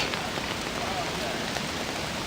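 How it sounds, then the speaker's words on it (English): Steady rain falls outdoors as the sun breaks through, a dense, even hiss of drops on surfaces close by, continuous and moderately loud throughout. "Oh wow, it's raining and sun coming out."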